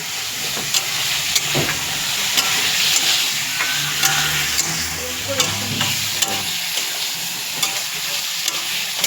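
About 250 grams of meat is stirred with meat masala in a frying pan, with a constant close sizzle and hiss punctuated by repeated sharp spatula scrapes and taps at an uneven rhythm.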